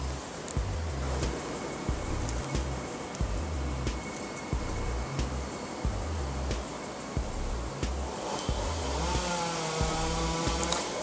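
A neighbour's chainsaw cutting down an oak tree, heard at a distance as a steady drone with repeated rhythmic bites into the wood, and a revving rise near the end.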